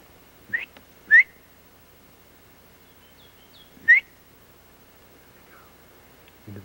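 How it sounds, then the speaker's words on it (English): A person outdoors gives a few short rising whistles, two close together then another after a pause, sharp against a quiet open-air background, with faint voices at the end. "You want to whistle?"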